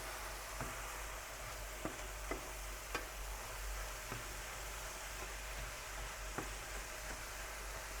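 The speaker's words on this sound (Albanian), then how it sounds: "E përzejmë gjithmonë që të mos na ngjisi." Onions frying in a pan, a steady soft sizzle with occasional light scrapes and taps of a spoon stirring, quiet and close with no voices.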